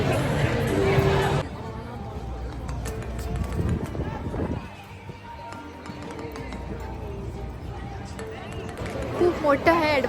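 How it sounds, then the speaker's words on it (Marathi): A crowd waits in the security line at Universal Studios Orlando, a busy murmur of chatter and footsteps with a close voice talking over the general hubbub. "वीकडे असूनही बरीच गर्दी आहे इथे."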